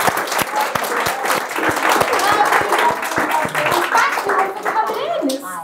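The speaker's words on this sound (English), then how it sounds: "I want a big clap for my class who've made this beautiful." Children with special needs and their audience at a mural-painting workshop clap loudly and continuously, with children's voices rising over the applause as it fades at the end.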